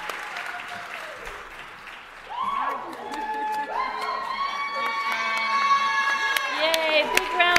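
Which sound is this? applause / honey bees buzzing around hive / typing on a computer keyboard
applause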